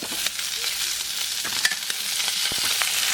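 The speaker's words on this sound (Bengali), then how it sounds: "লাল লাল করে ভেজে নিতে হবে" Shol (snakehead) fish frying in hot oil in a pan, giving a steady close sizzle with scattered crackles and a few short stirring clicks throughout.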